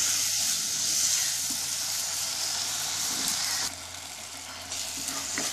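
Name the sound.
sautéing onions and tomatoes in a pan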